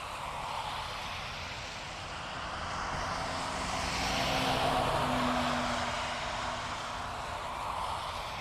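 An ATR turboprop airliner at Dublin Airport, a steady broadband engine and propeller roar heard at a distance, swelling slightly in the middle and holding throughout with no talk.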